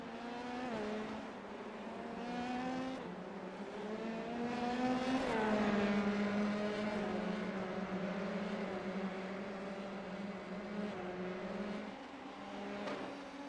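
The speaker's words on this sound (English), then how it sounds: "Have to be careful with these open wheel machines" Open-wheel F3 race cars in a racing video game at the Emilia Romagna Grand Prix scream with high engine whines that climb and fall through gear changes, swelling loudly midway as the cars pass close together.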